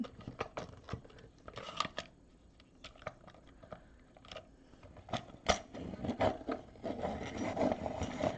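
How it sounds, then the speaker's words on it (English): A pencil turned in a handheld sharpener for art supplies, giving quiet, uneven wooden scraping and rasping strokes in irregular bursts, close and alone with no talk. "Let me get one that needs sharpening."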